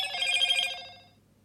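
Startup ringtone of a Motorola Moto E6 Plus phone: a short, bright electronic chime that rings clearly for under a second, then fades away to silence.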